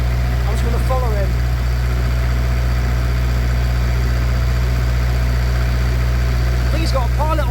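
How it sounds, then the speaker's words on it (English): Narrowboat engine running noisily on a canal crossing, a loud steady low drone throughout with brief voices breaking in near the start and end. "So the engine's so noisy because I'm keeping it cool"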